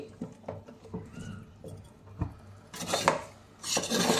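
A spoon stirs taro root and mutton curry in a pan, scraping and clinking against the metal in scattered, uneven strokes, with a couple of louder scrapes and a brief sizzle-like rush near the end.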